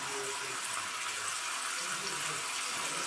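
Running water splashes continuously as hair is rinsed during washing, a steady soft hiss at low volume with no break.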